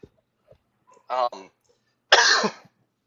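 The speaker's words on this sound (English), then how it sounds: "I still have a cough." A person coughs once, a short harsh burst after some brief talk, close and fairly loud in a quiet room during a casual cigar-smoking conversation.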